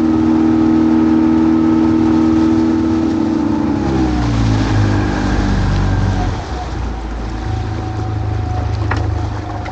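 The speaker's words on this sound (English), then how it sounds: "Engine started first time" A boat's engine runs on launch day with a steady droning hum that shifts pitch midway, as if throttling down, then settles into a lower rumble, loud and continuous.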